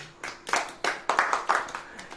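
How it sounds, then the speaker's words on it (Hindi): Church congregation clapping hands together during a sermon, a quick run of distinct claps in uneven bursts at moderate distance, fairly soft, with no talk over it. "अब ताली बजाओ"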